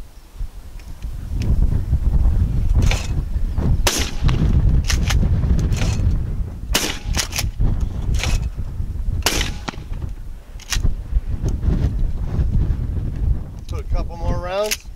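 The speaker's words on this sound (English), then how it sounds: "I'm just going to pick up the Mossberg 500 Flex, and we're going to put a couple shells in it, and we're going to put some rounds down range" A Mossberg 500 Flex pump shotgun fires rounds downrange outdoors. Several loud, sharp blasts are spaced irregularly over wind noise and a voice.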